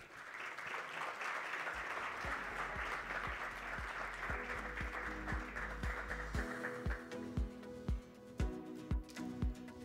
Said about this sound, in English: I would like to invite all of you to give Dr. Ziwai Shikovare a huge round of applause.